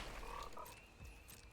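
A frog croaks in the MTG Arena card game, a short, close series of low rasping calls over a steady background hum, with no one speaking.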